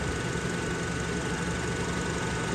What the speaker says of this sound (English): Let me bring the RPMs up and let's speed this process along.